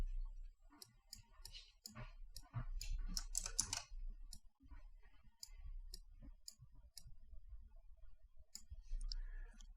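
Mouse clicks and computer keyboard typing at a desk, producing a loose series of quiet, crisp ticks with a brief flurry of keystrokes in the middle, close and faint against near silence.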